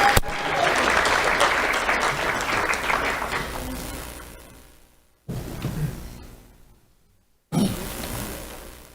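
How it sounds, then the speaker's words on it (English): Loud crowd applause at an awards ceremony fills the first few seconds, then tapers off, followed by two shorter bursts of clapping after brief silences. "Let's have a round of applause for Tristan Ruiz."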